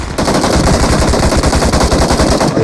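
Loud, relentless automatic gunfire from a shooting video game, rapid shots hammering in a steady rhythm almost without a break from start to finish.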